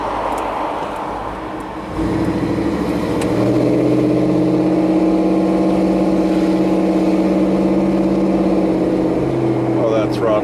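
A truck engine with a recently swapped idle air valve pulls smoothly under throttle while driving, a steady mid-pitched drone that swells after a quieter start and holds strong and close.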